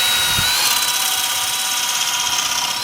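A power drill drives screws into posts for a koi pond build, a loud, steady high-pitched whine held for about three seconds at close range, with no talking.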